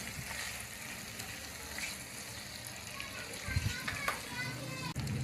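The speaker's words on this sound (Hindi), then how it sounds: "अब इसमें चिकन डाल लेंगे।" Chicken fries with golden onions and spices in a pot for yakhni pulao, a steady close sizzle running throughout with a few stirring clatters, and someone speaking over it.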